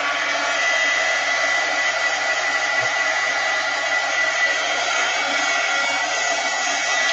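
A hair dryer blowing steadily to dry a first layer of a mixed-media watercolor painting on an 11x14 sheet, a loud, close, continuous rushing whoosh that holds even throughout with no talking.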